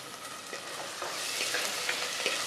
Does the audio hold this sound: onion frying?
yes